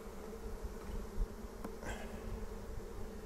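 A honey bee swarm clustered in a hedge gives off a low, steady, faint hum, with one or two louder buzzes of single bees passing close.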